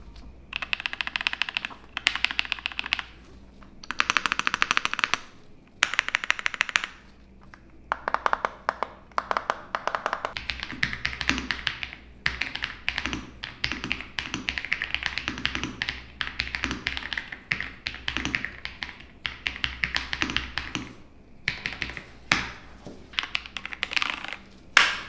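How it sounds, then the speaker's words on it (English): Rapid clacking of a Royal Kludge mechanical keyboard typed up close, bursts of quick clicks separated by brief pauses, with no talking. "here's a Royal Clutch keyboard"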